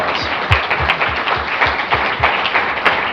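An audience applauds a panel at a conference, a dense steady round of clapping from many hands at close to moderate distance, with a faint voice underneath.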